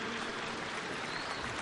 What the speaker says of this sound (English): It's not time to clap.